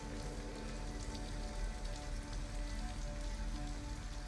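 Steady rain falls on surfaces in the video game Detroit: Become Human, a continuous dense patter that stays even and fills the scene, with no voices over it.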